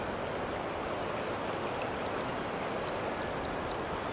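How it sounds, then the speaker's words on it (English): Swift floodwater rushing through a drainage ditch in Franklin, Tennessee gives a constant, dense rushing roar close by, with no talk over it. "Look at the swiftness of this water."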